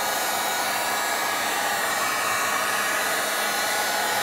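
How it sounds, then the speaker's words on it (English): A heat gun blows steadily while warming adhesive tape for stainless steel speaker covers on a Toyota RAV4. It makes a constant, close, loud airy roar with no breaks and no voices. "Be careful, this heat gun gets very hot, the tip gets hot really quick."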